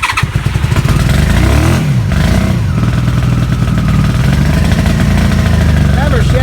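1996 Honda Magna VF750C motorcycle engine on its first start after final assembly in a shop, running loud and near with uneven revs and clattering, and a voice talks briefly over it.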